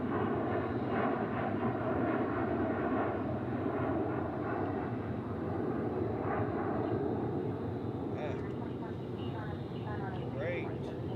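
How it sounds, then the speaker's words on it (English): A UPS Boeing 757 taxis at DFW International Airport, its jet engines producing a constant, broad rumble that fills the scene from a moderate distance, with faint voices mixed underneath. "There goes UPS taxiing out as well."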